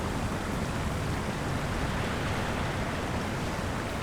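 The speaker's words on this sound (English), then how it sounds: "There's a waterfall." Waterfall in the fantasy game LOTRO (Lord of the Rings Online), Misty Mountains area: a steady, faint rush of falling water, continuous and even, with no other sounds.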